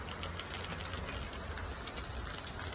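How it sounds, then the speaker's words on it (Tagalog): Steady rain hisses down in a dense, even patter on surfaces, constant and fairly close throughout. "Ang ulan."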